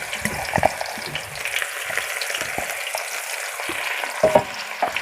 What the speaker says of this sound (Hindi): तो अब मैं इसमें प्याज और लहसुन डाल दूँगी बिस्मिल्लाहिर्रहमानिर्रहीम इसी घी में